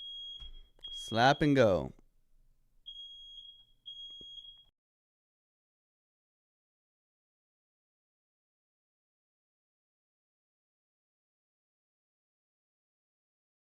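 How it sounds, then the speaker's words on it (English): A home fire alarm beeps in short high electronic tones, a few pulses spaced apart near and clear, with a brief stretch of someone talking over the first of them before silence. "My wife has set off the fire alarm."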